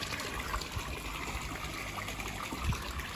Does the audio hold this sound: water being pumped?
yes